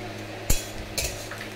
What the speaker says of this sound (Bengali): বাসন মাজছে